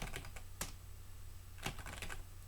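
Keystrokes on a computer keyboard while editing text in Vim replace mode: a run of light, close taps with a couple of louder key hits, over a steady low electrical hum.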